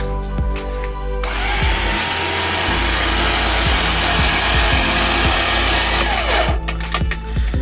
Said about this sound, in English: So it actually spins quite quickly, and that's one of the things that I really like about it. The motor itself is very quick